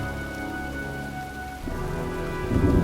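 Steady rain hisses in the video game Heavy Rain, with a low thunder rumble swelling near the end, loud and continuous with no voices.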